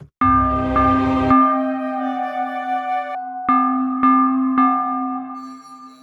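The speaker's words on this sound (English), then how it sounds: "now we can listen to the bell all the time" A soloed bell track plays back in Cubase: clear, close bell strikes ring out one after another with long sustaining tones, the first hit loud with a short burst of low rumble under it.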